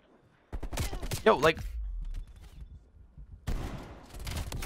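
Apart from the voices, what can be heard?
shotgun gunfire in video game Black Ops Cold War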